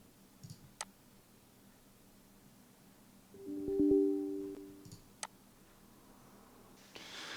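A few sharp computer mouse clicks while running a software installer, isolated and spaced out, with a brief tonal hum in between and a quiet room behind.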